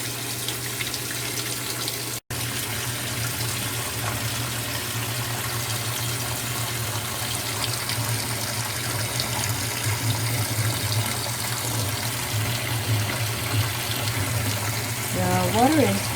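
Warm water streams steadily into a washing machine drum during a laundry load with Gain scent booster, a continuous gushing rush that holds at an even level throughout, with a brief dropout near the start.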